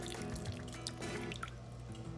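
Water drips and trickles from squeezed grated potatoes into a bowl, scattered splashy drops close by with no talking.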